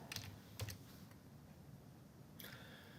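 A few keys tap on a computer keyboard as numbers are entered. The clicks are quiet and close: two early taps, a lone tap, then a short cluster, with no talking.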